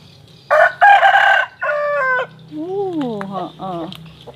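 Roosters in a coop crow one after another at close range, a series of loud, drawn-out calls with some clucking between them, in a lively afternoon setting.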